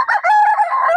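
A single close, loud rooster crow rings out for about a second at a bustling poultry market, clear and tonal with no talk over it.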